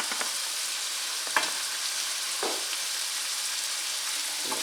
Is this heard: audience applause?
no